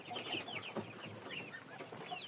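Several chicks hatched from bought eggs cluck and chirp continuously at a low volume in a pen, a busy overlapping chatter of short calls with no talking.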